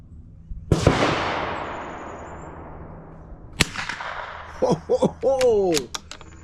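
A single sharp rifle report from a CZ 457 firing Eley Match ammunition cracks out loudly and decays into a long outdoor echo, followed by a metallic bolt click and brief talk.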